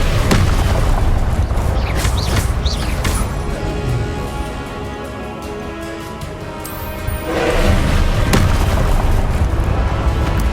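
Loud, booming explosions from the Confringo spell in the Hogwarts Legacy video game fill the scene with dense rumbling blasts, swelling again after a brief lull amid constant battle noise.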